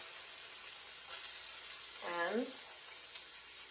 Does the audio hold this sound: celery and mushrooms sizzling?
yes